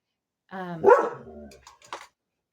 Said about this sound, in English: In real life, dogs bark.